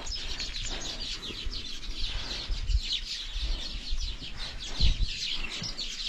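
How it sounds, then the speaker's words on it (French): Birds chirp densely and continuously at Twyfelfontein, Namibia, with many overlapping high tweets and calls, moderately close, alongside occasional low thumps and no talking. "Comme je vous ai dit, c'est rempli d'oiseaux."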